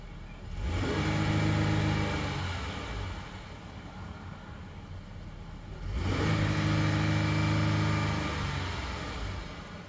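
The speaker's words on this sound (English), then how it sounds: "let's get a listen to this vehicle's engine" A 2018 Jeep Grand Cherokee Limited 4WD engine, warmed up, is revved hard twice up to the rev limiter. Each loud, close burst climbs and then drops back to a steady idle, with no voices.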